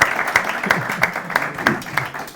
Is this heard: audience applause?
yes